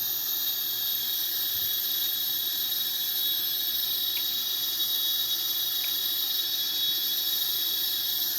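Boeing 777-300ER jet engines spin up in a flight simulator, heard as a steady, loud high-pitched whine with a broad airy rush underneath, holding constant for the whole stretch with no talking.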